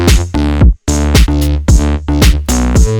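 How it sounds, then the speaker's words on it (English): A loud four-on-the-floor drum beat with open hats and closed hi-hats plays alone in a steady groove, with full synth tones layered over the kicks. "It's like a 4-on-the-floor pattern with some additional open hats and hi-hats."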